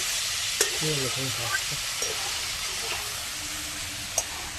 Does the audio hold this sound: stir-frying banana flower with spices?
yes